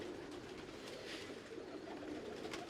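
Breeding pigeons from a fancier's loft cooing softly and continuously, a low murmuring coo over steady background noise at moderate distance.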